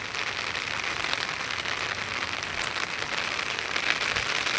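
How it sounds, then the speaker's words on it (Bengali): Steady rain pours onto a rooftop, making a dense, continuous patter of drops that stays even and fairly loud throughout, with no voices. "বৃষ্টি হচ্ছে"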